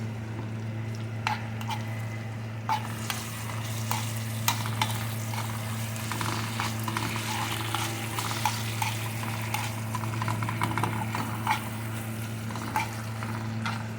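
Kisna being stirred with tomato paste in a pot, a soft continuous sizzle with scattered scraping and clicking of the spoon over a steady low hum.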